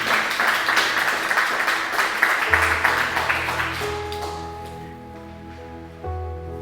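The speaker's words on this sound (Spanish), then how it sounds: "Dale una ofrenda de palmas a Cristo." Congregation applause during a church sermon, a broad wash of clapping that gradually fades as sustained organ or keyboard chords come up underneath.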